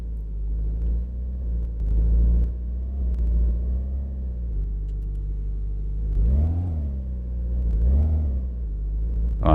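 Engine of a Neva car in the My Garage video game, rumbling steadily at low revs as it is eased toward a trailer, with two brief rises in pitch and throttle near the end.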